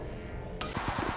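Gunfire in Apex Legends Mobile, a short burst of a few quick shots breaking in after a moment of low game ambience, moderately loud.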